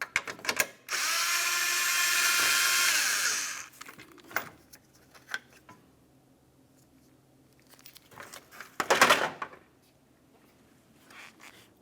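A power drill or driver spins out the 10mm-headed bolt at the center of the grille on a 2000-2006 Chevrolet Tahoe in one steady, close whir, followed by light clicks, taps and a second short burst of rattling as the grille comes away.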